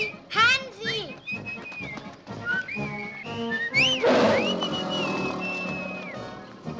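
A person whistles repeatedly to call an escaped pet canary outdoors in 1957 Berlin, giving short rising and falling whistles, some long held, mixed with a few spoken calls.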